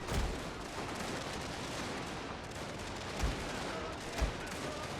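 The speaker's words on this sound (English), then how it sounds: "The chasseurs firing away" Musket volleys and cannon fire from a battle in a strategy video game with chasseurs and fusiliers: a faint, continuous crackle of gunfire broken by a few low booms.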